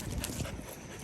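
A wet dog pants in Central Park on a rainy day, giving a brief, quiet burst of breathy sounds against soft outdoor background noise.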